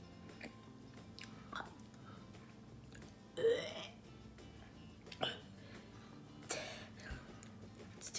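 Someone munches on a cucumber during a spin-the-wheel food challenge, with a few separate crunchy bites and mouth noises rising above a quiet room.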